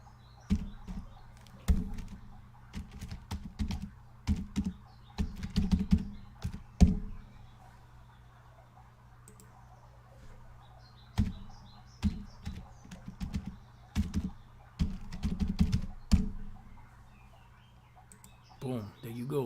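Computer keyboard typing in bursts of quick clicks, close and fairly loud over a steady low hum, with quiet gaps between runs of keystrokes.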